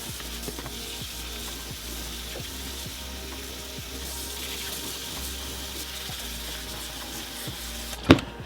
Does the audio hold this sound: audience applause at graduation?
no